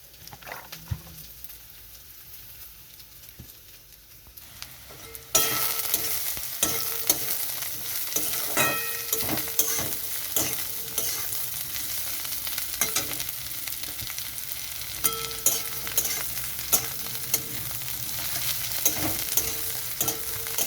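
Nal potato stalks fry in a pan, a quiet opening that gives way to a loud, dense, steady sizzle with scattered crackles and occasional stirring, heard close and without voices.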